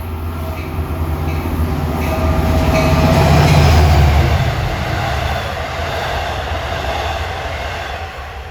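A Long Island Rail Road train from Atlantic Terminal to Ronkonkoma passes on triple track, with a steady loud rumble and rolling wheel clatter that swells to a peak midway and then eases off slightly, heard alone without talk.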